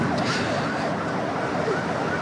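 An ambulance siren wailing on an expressway, a rising and falling electronic tone repeating steadily over traffic rumble, moderately loud and continuous.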